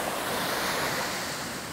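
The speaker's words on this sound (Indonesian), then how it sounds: "nelayan untuk menepi ke bibir pantai karena hempasan ombak ini besar" Large surf around 1.5 m high breaks on Mapaddegat beach in the Mentawai Islands, making a loud, steady roar of churning water with wind noise and no pause.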